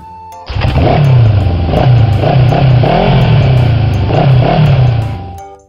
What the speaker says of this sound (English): Motorcycle. Sepeda motor.